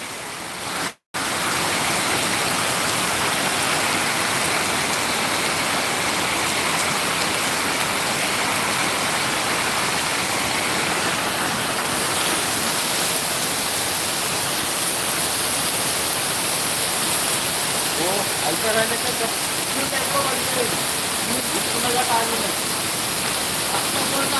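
Heavy rain pours steadily with rushing floodwater flowing along a road at Punjagutta in Hyderabad, a dense continuous wash of noise close by, with faint voices appearing in the latter half.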